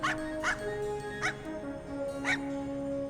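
A puppy in the PS2 role-playing game Wild Arms 4 gives four short high yips and whimpers, spaced apart over a steady background music bed.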